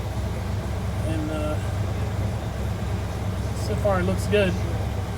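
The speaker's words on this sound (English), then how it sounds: "I got the truck running, letting it get up the temperature" A Ford F100 truck engine idling while it warms up, a steady low rumble close by, with someone talking over it.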